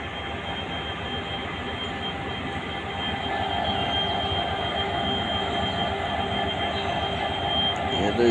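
At a railway station a train gives off a continuous loud rumble with a sustained metallic wheel squeal, growing slightly stronger partway through.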